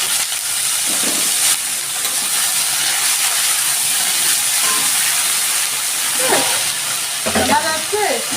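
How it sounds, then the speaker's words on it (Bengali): Bitter gourd dropped into hot mustard oil in a wok, a loud continuous close sizzle and hiss with faint background voices toward the end. "করলাটা কড়াইতে দিয়ে দিচ্ছি"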